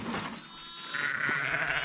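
Sheep bleating during feeding time on an Australian farm in lambing season, a drawn-out wavering bleat that swells toward the end, close and fairly loud over outdoor ambience.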